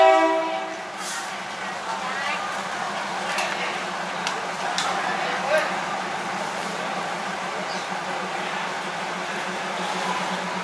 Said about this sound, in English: This is our train which we just came off.